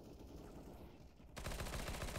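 A first-person shooter video game erupts in a rapid, loud burst of automatic gunfire after a quieter stretch of game ambience.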